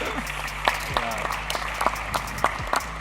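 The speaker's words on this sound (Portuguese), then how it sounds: "Um aplauso." A small audience at a live football talk event gives a scattered, light round of applause, with individual claps spaced out under someone speaking briefly.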